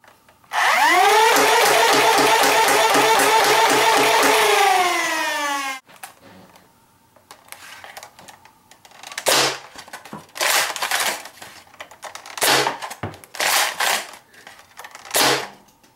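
A Nerf Stryfire 2.0, a Stryfe flywheel blaster with an integrated Magnus, spins up with a loud, steady whirring rising in pitch for about five seconds, followed by several sharp, separate bursts as darts are fired in an uneven rhythm.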